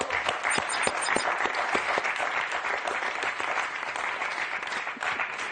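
Studio audience applauding a contestant on a French television game show, a sustained dense round of clapping at even strength throughout, with no talk over it.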